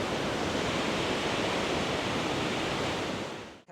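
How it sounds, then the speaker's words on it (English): Rhine Falls (Rheinfall) waterfall roaring from a distance, a steady, dense broadband rush that holds constant and then cuts off abruptly at the end, with no voices. "I'll just pan round to show you the Rheinfalls from distance."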